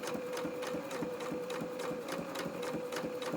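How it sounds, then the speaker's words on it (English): A sewing machine stitches through a vinyl project bag with a fast, even run of mechanical needle clatter and a steady motor whine, close up and continuous with no voices. "try and keep my stitching as neat as possible"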